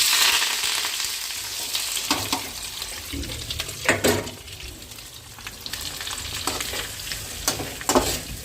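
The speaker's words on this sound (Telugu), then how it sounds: "ఈ విధంగా వీటన్నిటిని ఒక ఫిఫ్టీ పర్సెంట్ వేయించుకోవాలి" Raw chopped onions and curry leaves fry in a pan with a steady close sizzle, punctuated by the scrape and clatter of a spoon stirring them every second or so.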